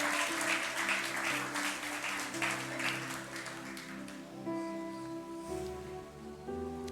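A church congregation applauds loudly at a worship service, a dense, sustained patter of many hands over soft sustained music underneath, with no spoken voices.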